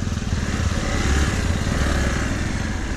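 A motorcycle engine drones steadily and loudly on a mountain road near Shivapuri in Kathmandu, with a constant low rumble and no gaps.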